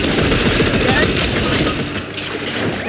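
Gunfire in the Fortnite video game, a dense burst of shots and booms packed close together and loud throughout, with a voice speaking underneath.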